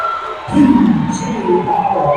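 Home crowd at a high school basketball game between White County and Lawrence County, a loud burst of cheering and shouting that swells mid-clip and holds steady with mixed voices.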